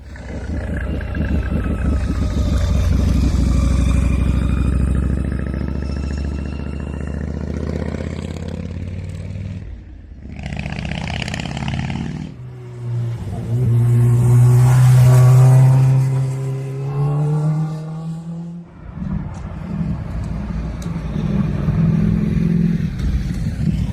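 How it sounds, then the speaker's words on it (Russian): Motorcycles and cars pass by one after another in Japan, engines rising and fading, with a deep motorcycle rumble and revving swelling loudly in the middle. "я обалдел от количества байкеров и прикольных тачек, проезжающих мимо"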